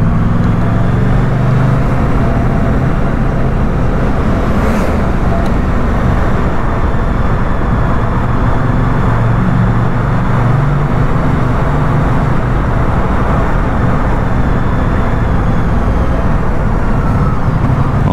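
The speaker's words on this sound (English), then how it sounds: "Motor se baš moćno čuje." A 2024 Moto Guzzi Stelvio motorcycle's transverse V-twin engine runs steadily close by, giving a loud, continuous low rumble that shakes at idle, with no talk over it.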